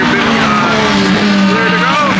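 Race cars restart at Sebring in 2025, their engines droning and rising in pitch together in a continuous, loud roar.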